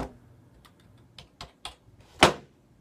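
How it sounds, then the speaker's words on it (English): A handful of separate keystrokes on a mechanical office computer keyboard, quiet scattered clicks in a still room, ending with one louder, sharper clack. "Now I have a keyboard here which I believe is a mechanical"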